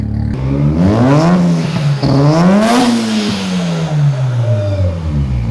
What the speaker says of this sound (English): Series 2 titanium exhaust from Tomei on a Series 1 RX-8.